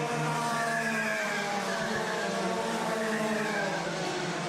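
Club100 heavyweight karts race through the final lap of a sprint championship A Final at Rye House. Their engines make a loud, steady, overlapping drone that holds at a constant pitch, and no one speaks.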